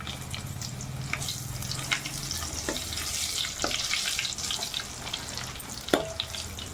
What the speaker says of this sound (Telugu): కొంచెం ఆవాలు జీలకర్ర వేసి ఒక్కసారి ఆవాలు చిట్పట్టమన్నప్పుడు ఎండుమిరపకాయలు